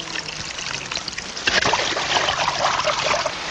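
Irrigation water from a water wheel trickles and pours onto a bean field planted among cassava, a steady splashing wash that swells after the first moment and runs on without talk.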